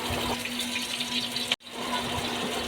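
Cooking oil, about one and a half cups, pouring into a clay handi for chicken haleem, a steady liquid stream running continuously at close range, with a sudden brief break partway through before the flow resumes.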